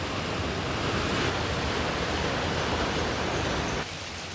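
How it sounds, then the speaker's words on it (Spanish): Roaring Amazon waterfall, a powerful cascade heard as a dense, continuous rushing wash that stays loud and steady, then drops slightly in level near the end. "Imponente esta segunda cascada."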